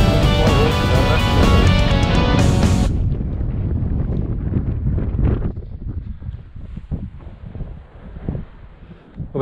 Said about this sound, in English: we've got the wind at our back now